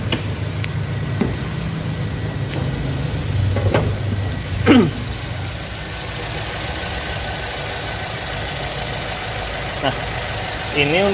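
An 1800cc Toyota Corolla AE112 XLi engine idles with a steady low rumble, close by, while a voice talks intermittently over it.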